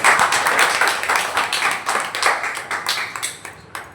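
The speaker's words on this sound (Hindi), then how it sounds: "तालियां बजाओ।" An audience at a devotional gathering claps in a fast, steady rhythm, dense and fairly close, fading a little toward the end.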